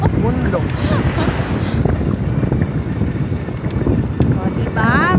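Wind blowing at Mount Samat, strong buffeting gusts rumbling across the microphone, loud and continuous, with people talking and calling out through it.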